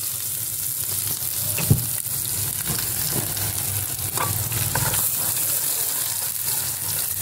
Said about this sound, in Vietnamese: Bây giờ nó đã sôi rồi mình đổ tỏi vô các bạn ơi.